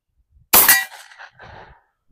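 A single sharp report from a Tisas 1911 9mm pistol firing 124 grain +P ammunition, loud and close, then a short clattering tail of brass and handling noise.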